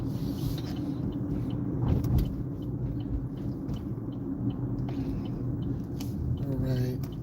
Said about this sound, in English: A lot of cars here.